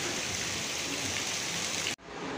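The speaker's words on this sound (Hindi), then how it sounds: "बहुत ज़्यादा बारिश हो रही है।" Heavy rain pours onto a road, a dense, steady hiss that fills the clip before cutting off abruptly near the end.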